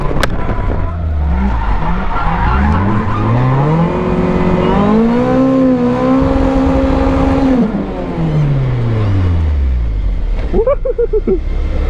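A 1986 Toyota Corolla AE86 drifting on worn, overheated tires: loud close engine revs climb and fall over a continuous roaring skid, with a sharper squeal near the end.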